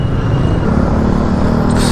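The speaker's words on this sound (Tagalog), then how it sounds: "Traffic dito" Road traffic on a bridge heading toward Balibago, a loud, steady rumble of passing cars and engines with no pauses, heard from close by.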